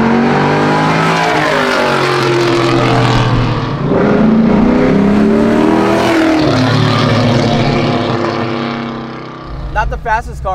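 LS3-powered Chevelle restomod engine revving hard under load, a loud close drone that climbs and falls in pitch through the RPM range, then eases off near the end.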